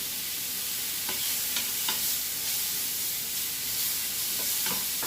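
Mushrooms sizzle in a pan on medium-high heat for a garlic butter linguine, a continuous close frying hiss broken by periodic scraping strokes as the food is stirred.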